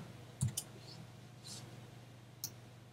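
A computer mouse clicks in Photoshop Elements: a few sharp, close, quiet clicks spaced irregularly over a faint hum, with one small slide-like rustle between them.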